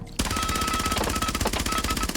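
In Rainbow Six Siege, a P90 fitted with a compensator fires one continuous, loud, rapid automatic burst from just after the start to the end.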